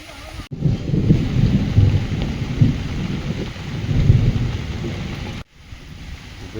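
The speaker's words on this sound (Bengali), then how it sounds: "বৃষ্টি কিন্তু ভালোভাবে শুরু হয়ে গেছে" Heavy rain pours in a dense, loud hiss with low thunder rumbling through it, broken by a brief cut partway through.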